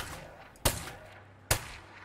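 Two sharp, loud gunshots in State of Decay 2, spaced under a second apart, each a crisp crack with a short decaying tail over quiet ambient background.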